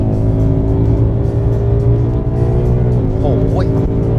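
A Ford Mustang 55th Anniversary Edition engine drones loudly and steadily with a rising whine near the end, as if revving up, recorded close by.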